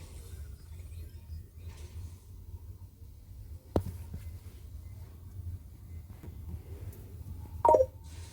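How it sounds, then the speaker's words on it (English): A short electronic notification chime on a Samsung tablet about a microwave sounds near the end, a brief bright tone over a low, steady hum, with a soft click a few seconds earlier. "If you're wondering what that notification was, you saw it was about my microwave"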